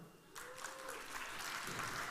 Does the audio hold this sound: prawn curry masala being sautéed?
no